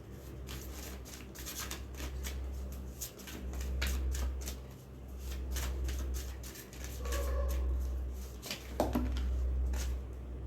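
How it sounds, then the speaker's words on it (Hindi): A deck of tarot cards is shuffled close up with a quiet run of rapid papery flicks and riffles, repeated in bursts over a low steady hum, with no talking. "ओके, अगेन मैं दोबारा शफल करूँगी"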